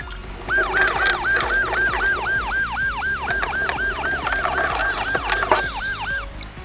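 An ambulance siren wails in a rapid repeating up-and-down pattern over steady background rumble, fairly close and loud.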